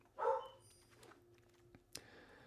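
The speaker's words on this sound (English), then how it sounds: "Sorry about the dog." A dog in a room gives one sharp bark followed by faint whimpering and a brief later yip, all fairly quiet indoors.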